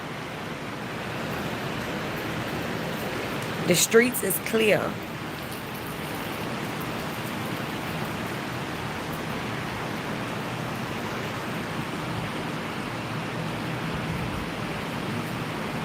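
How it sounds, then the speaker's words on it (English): Steady rain falls on quiet empty streets, a soft even hiss throughout with a brief louder clatter near the start, while a person speaks briefly over it. "It's raining."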